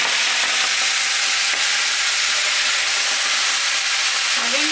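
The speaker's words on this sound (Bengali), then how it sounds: "লঙ্কা আর পাঁচফোড়ন সম্বরা দিব।" Green chilies and panch phoron tempering sizzle in hot oil while poi shak greens with rohu fish head are cooked, a loud, steady frying hiss lasting throughout with no talk.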